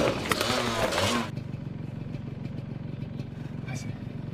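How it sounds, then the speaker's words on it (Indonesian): A motorcycle roars past close by in a film scene about a student nearly being hit on the way to school, loud and brief before cutting off abruptly to a low steady hum. "Saat di jalan akan menuju ke sekolah, Wenji hampir tertabrak motor."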